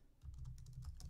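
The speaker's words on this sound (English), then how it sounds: "I can just start typing" Quiet, steady keystrokes on a computer keyboard while a chart title is typed in Excel, a rapid run of soft clicks heard close and alone.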